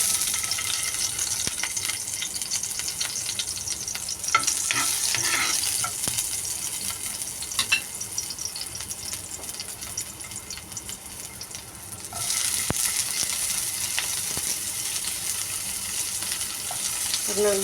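Sardines cook in a pan for a Filipino dish, a steady frying hiss that dips midway then swells louder again, with occasional clinks and stirring sounds throughout.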